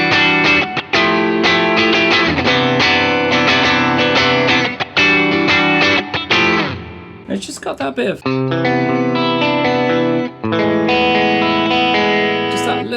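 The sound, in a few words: electric guitar through Mythos Herculean overdrive pedal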